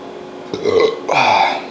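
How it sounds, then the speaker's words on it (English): A man's belch comes out in two loud, drawn-out bursts, close to the microphone, the second longer than the first. "I got a belch coming. I'm trying to get it out."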